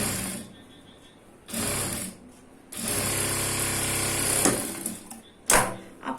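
Sewing machine stitching a tuck on a blouse: close, whirring bursts of rapid stitching, one short run then a longer steady run, separated by quiet pauses and ending with a few clicks.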